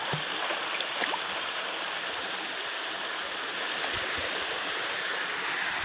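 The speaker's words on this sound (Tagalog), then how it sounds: "Yan ang sapa." A flowing stream in Barangay Ilayang Ilog A, Philippines, below a waterfall, rushes steadily, a dense, even wash of water noise close by, with small splashes and gurgles scattered through it.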